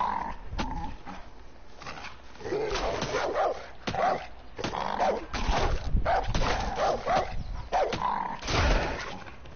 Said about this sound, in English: Dog, don't make me do it.